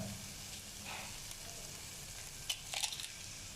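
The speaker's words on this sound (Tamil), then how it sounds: "இப்போ பச்சை வடை போனோன்னா நம்ம முட்டையை உடச்சி ஊற்றிக்கலாம்" Eggs cracked into a hot pan and frying, a soft, steady sizzle that stays quiet throughout, with a brief cluster of sharper crackles and clicks near the end.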